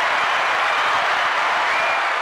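A round of applause from a studio or live audience, dense steady clapping filling the whole stretch at a loud, even level with no voices over it.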